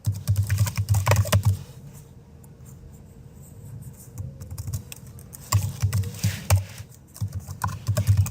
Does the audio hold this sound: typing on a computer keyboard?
yes